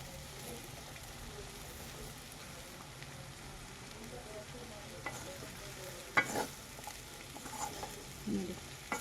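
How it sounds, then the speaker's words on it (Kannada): Okra and potato masala fries on a low flame in a pan, a quiet, continuous sizzle with a few soft scrapes and knocks of stirring toward the end. "ಹಾಗೆಯೇ ಚೆನ್ನಾಗಿ ನೀವು ಲೋ ಫ್ಲೇಮಲ್ಲೇ ಫ್ರೈ ಮಾಡ್ಕೊಳ್ಳಿ."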